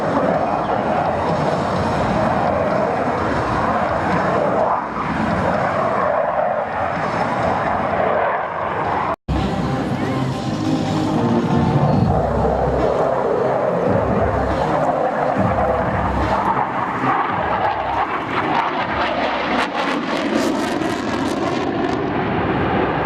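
An F-18 Hornet jet flies a demonstration pass at a Travis AFB airshow, its loud, continuous engine roar filling the air with a shifting, sweeping tone and one brief dropout midway.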